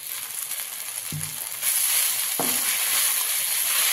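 Sago pearls (sabudana) tipped into a hot pan of oil with a brief rattle, then a steady broad sizzle of frying that stays loud and even to the end, with no talking.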